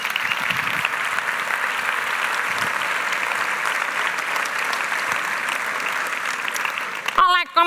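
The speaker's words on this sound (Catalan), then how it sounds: "Un aplaudiment pel Moakis." Audience in the Teatre Principal de Terrassa applauds at a film presentation, sustained clapping from a full house, cut off near the end as a speaker begins talking.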